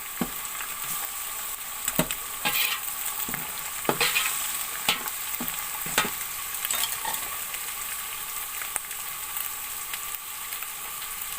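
Tamarind goes into hot oil for chana pulao and is stirred, giving a steady frying sizzle with scattered spoon scrapes and clicks against the pot, heard alone without talk.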